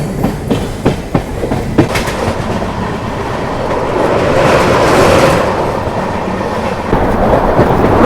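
A train pulls out of Vizianagaram Junction in India with distant horn blasts, then brisk wheel clatter and a rising rumble of the carriages as it gathers speed, loud and continuous with no talk.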